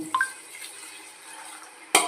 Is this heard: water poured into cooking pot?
yes